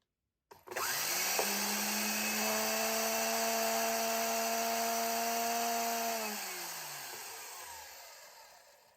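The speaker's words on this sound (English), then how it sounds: "Let me turn the drill on here." An electric drill drawing about 130 watts whirs up to a steady high-pitched motor hum, holds it for several seconds, then winds down as the motor slows to a stop.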